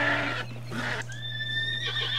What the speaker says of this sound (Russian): Как его лошадь взбесилась.